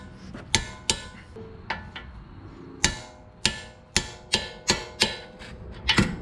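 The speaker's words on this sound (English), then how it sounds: "And these get torqued down to 116 foot-pounds." Sharp metallic clicks from a torque wrench tightening strut nuts to spec on a 2007–2011 Honda CR-V during front strut replacement, coming in irregular single and paired ticks, close and clear, with no talking.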